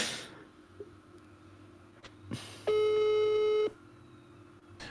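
A telephone busy tone comes through as one steady electronic beep lasting about a second, clear and fairly loud against quiet background noise, after a call to a mobile phone late at night.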